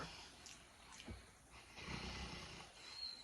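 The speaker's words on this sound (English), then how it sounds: "He's snoring and he's having a bad dream." A pet dog snores while dreaming, soft irregular snorts and rumbling breaths at close range, fairly quiet with a faint steady background hiss.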